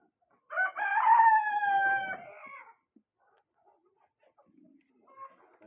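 A rooster on a poultry farm gives one loud, close, drawn-out crow, followed by quiet faint clucks and a short call from another bird near the end.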